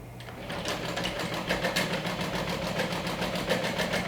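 A sewing machine runs top stitching in a steady, rapid, even mechanical rhythm, close by and moderately quiet.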